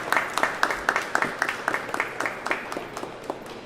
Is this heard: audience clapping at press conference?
yes